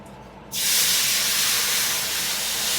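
A sudden loud hiss bursts in after a quiet moment and holds steady as hot water is poured into a scorching pan of karah prasad, sizzling into steam.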